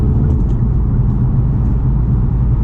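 Steady low engine idle from a 2020 Cadillac CT5 Sport or 2020 Genesis G70 in sport mode, a continuous close rumble with no revving and no talk.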